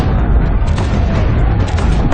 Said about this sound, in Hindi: तोपें दिन रात हमला कर रही हैं।